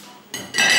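Pots, pans and plates clatter briefly as they are gathered up, a quick close burst of clinking metal and ceramic that grows louder toward the end.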